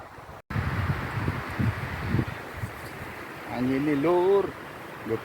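Strong wind gusts across a mountain hiking trail on Gunung Kawi in East Java, a steady close roar buffeting the microphone, with a voice briefly speaking near the end.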